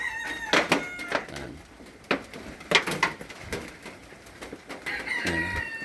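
Chickens cluck and squawk in short, scattered bursts, with a rooster-like call near the end, fairly close amid windy outdoor noise.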